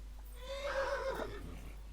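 A horse in Kingdom Come: Deliverance gives a single clear whinny that rises and wavers for about a second over a steady low hum, with no talking.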